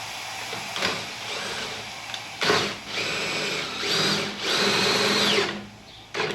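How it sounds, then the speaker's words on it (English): Custom machine for recycling AC compressors clamping down, giving several bursts of whirring motor noise that start and stop, with short pauses between, fairly quiet and close. "It just clamps right down on it."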